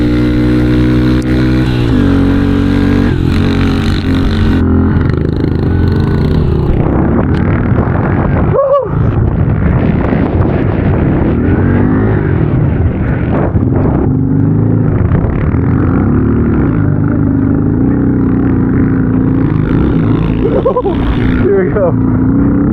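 Pit bike engines rev loudly and continuously while riders push through a snowy blizzard, the motors rising and falling close up with wind noise, and people talk over the roar.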